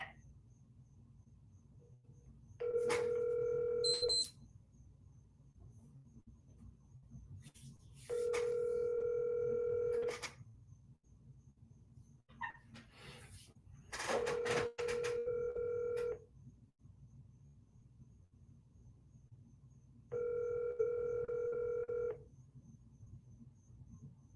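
A telephone ringing tone sounds in four steady bursts of about two seconds each, separated by pauses, over a quiet background hum, as a call rings out before going to voicemail.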